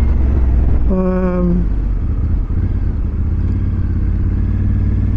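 Twin-cylinder engine of a 2023 Honda Africa Twin motorcycle running steadily, a loud close low throb with a brief rising whine shortly after the start.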